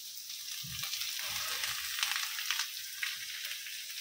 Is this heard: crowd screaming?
no